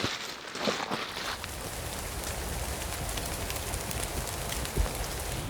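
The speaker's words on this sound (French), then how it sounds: "La pluie s'est mise à mouiller." Rain falls steadily in a forest during a fishing trip at an outfitter, a soft even patter with occasional faint bird calls and a few louder drips.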